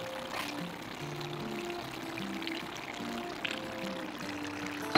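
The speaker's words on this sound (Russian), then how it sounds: "И добавлю еще водички." Water poured into a pot of chicken pilaf: a steady, continuous pour lasting several seconds, with faint background music or tones underneath.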